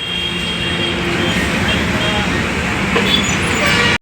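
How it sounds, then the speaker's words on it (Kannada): Dense road traffic with many buses heading toward an airport, a loud continuous roar of engines and tyres close by, with voices talking over it before it cuts off abruptly. "ಭಾಳ ಬಸ್"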